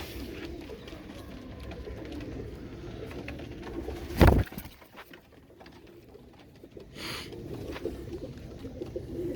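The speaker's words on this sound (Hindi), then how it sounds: "एक कबूतर चोटी वाला बस" Soft crested pigeon cooing close by in a quiet setting, with a sudden loud knock midway and faint rustling.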